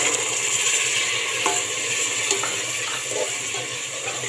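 Cloves, cardamom, cinnamon and green peas stir-fried in a pot for pea pulao give off a steady, dense sizzle, with faint scrapes and knocks of stirring coming and going.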